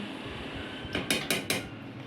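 A metal pot lid lifted off a pot of Telugu fish curry with tomato gravy clanks three times in quick succession after a quiet stretch of low kitchen noise.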